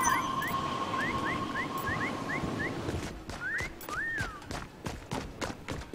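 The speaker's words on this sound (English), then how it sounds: "Whistle." Several short rising whistle tones repeat over a busy, noisy Fortnite Prop Hunt soundscape, followed by a couple of longer sweeping whistles.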